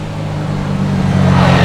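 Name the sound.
vehicle being driven past by young boys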